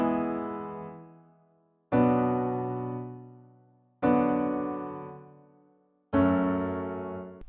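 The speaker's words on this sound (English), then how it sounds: "And after those changes, the chords sound like this." Four sustained chords in E mixolydian, each struck once and left to ring and fade over about two seconds, with rich harmonics and a clean, close sound and no voices.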